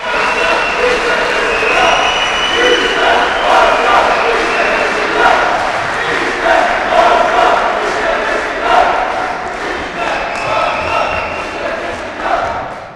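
Party members at an AK Parti congress in Elazığ chant slogans and applaud, a dense, loud crowd roar with rhythmic shouting sustained throughout, with voices mixed in.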